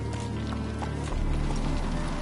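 Roach, the horse in The Witcher, gallops with rapid, rhythmic hoofbeats, loud and close over a low rumble of game ambience.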